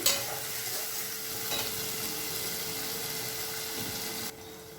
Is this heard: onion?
yes